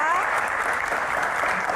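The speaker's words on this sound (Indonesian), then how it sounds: "Tepuk tangan sekali lagi untuk Mbak Rika Diah Pitaloka." A studio audience gives steady applause for Rieke Diah Pitaloka on a Q&A talk show, a brief, even wash of clapping from many hands.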